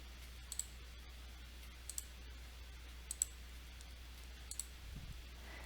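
A computer mouse clicks softly a few times, sparse single clicks spaced seconds apart in an otherwise quiet room.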